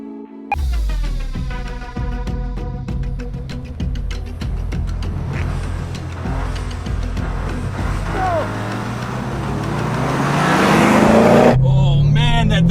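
A tiny 3-cylinder turbo Toyota GR Corolla and a V8 Ford Mustang launch in a drag race. Engines roar loudly and climb in pitch as they accelerate away, with no talk over them.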